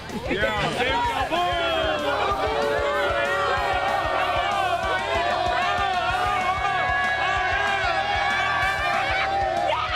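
A high school football crowd roars and whoops after a win, loud voices cheering and shouting over one another in a busy, continuous din with excited calls rising above the babble.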